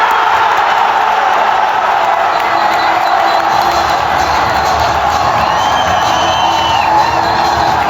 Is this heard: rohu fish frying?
no